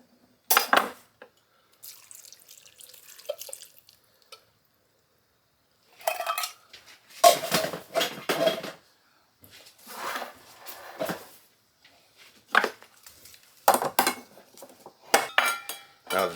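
Canned soup and tomatoes go into a Dutch oven in bursts of clinking metal, scraping and wet glugging and splashing, separated by short quiet gaps.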